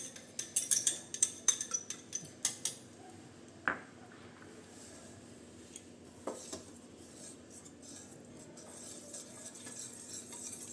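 A utensil stirs cornflour mixed with water in a bowl for Karachi halwa, sending a quick run of close scraping clinks early on and then a few sparse taps over quiet background, with no voice.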